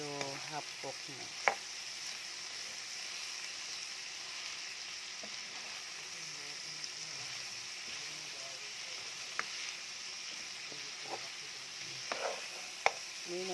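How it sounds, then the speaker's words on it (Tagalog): Green beans and ground meat with vermicelli noodles are stirred in a pan, with a soft sizzle underneath and scattered scrapes and clinks of the utensil against the pan, quiet and close, with faint background voices. "Haluin lang natin siya. Hanggang sa ay medyo half cook na."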